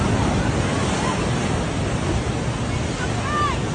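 Big ocean waves surge and churn during a severe flood, a continuous loud roar of surf mixed with wind buffeting the microphone, with faint whistle-like tones briefly rising above it.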